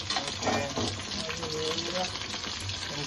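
Mutton 65 frying in hot oil, a loud, dense and continuous sizzle close by with bubbling throughout and no pauses.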